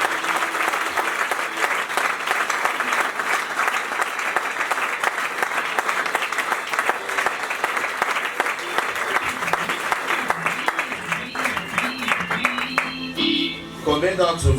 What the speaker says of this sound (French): Tu peux acclamer le Christ.